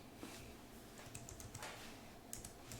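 Quiet, close keystrokes on a computer keyboard, a short run of light irregular clicks.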